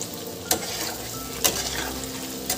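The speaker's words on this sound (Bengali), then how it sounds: "বেশ লাল লাল করে ভেজে নেব।" Ras bora, sweet lentil fritters for winter, sizzle as they fry in hot oil, with a steady crackle broken by three short clinks of a utensil stirring or turning them in the pan.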